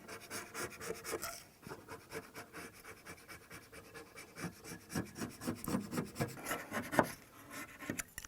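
A carbide-tipped saw blade with a missing tip is scrubbed clean with steady, close rasping and rubbing strokes, continuous with small bursts and no talk.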